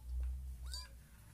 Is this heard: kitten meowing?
yes